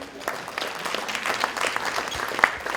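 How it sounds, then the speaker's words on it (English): An audience at an aviation keynote address claps in a dense, moderately loud burst of applause, with scattered sharp claps over the steady patter and no speech on top. "Go ahead, clap."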